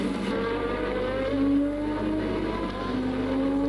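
Mid-1980s Formula 1 cars race at the Österreichring in 1985, a sustained high engine whine with rising pitch sweeps as the cars pass and accelerate, loud and continuous.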